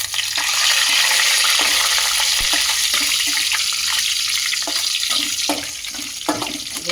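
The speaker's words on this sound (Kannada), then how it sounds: "ಈಗ ಇದಕ್ಕೆ ಫಸ್ಟು ಗೋಡಂಬಿನ ಫ್ರೈ ಮಾಡ್ಕೊಳ್ತೀನಿ." Cashews frying in hot oil in a pan, a steady loud hiss and sizzle with faint stirring clinks throughout.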